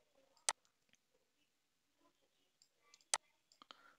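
Two crisp computer mouse clicks, spaced about two and a half seconds apart, stand out against a very quiet room with small faint rustles and soft incidental noises between them.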